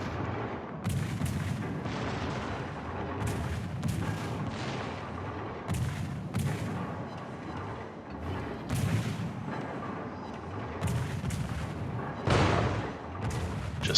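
Repeated heavy booms of destroyer naval gunfire in a warship video game, a steady series of loud blasts and rumbling impacts over a dense low background, with one sharper burst near the end.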